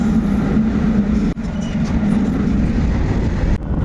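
A train rumbles past close by at a railway crossing, a steady heavy drone with a low hum throughout, briefly dipping before continuing.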